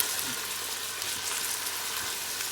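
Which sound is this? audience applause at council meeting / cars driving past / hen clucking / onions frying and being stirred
onions frying and being stirred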